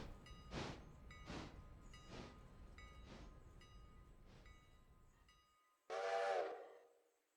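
A steam passenger train chuffs along in the Railroader video game, with a steady run of rhythmic exhaust beats that fade, followed by a short, loud, close whistle blast.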